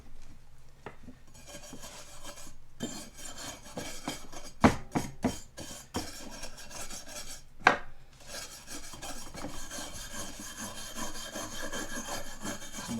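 Steady, continuous scraping and rubbing of a wire brush scrubbing cast iron, with a few sharp knocks and clanks along the way, fairly close and uninterrupted.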